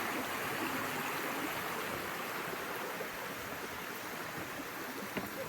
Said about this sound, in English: Wilson Creek feeding into the other Wilson Creek